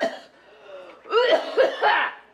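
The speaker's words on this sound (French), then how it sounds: "Est-ce que vous toussez beaucoup?" A few rough, close coughs in quick succession, following a brief faint throat sound.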